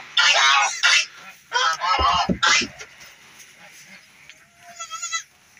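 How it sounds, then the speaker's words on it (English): A heavily pregnant goat close to kidding gives several loud, close bleats in short bursts, followed by quieter, fainter calls toward the end. "We got another goat here."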